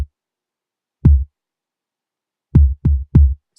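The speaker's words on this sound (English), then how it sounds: "If you just listen to the kick on its own again" A deep trap kick drum playing alone in a Logic Pro beat, with five tight, boomy low thumps in a sparse pattern: one, a pause, then a quick run of three.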